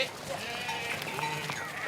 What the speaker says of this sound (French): faire rentrer ses brebis dans l'enclos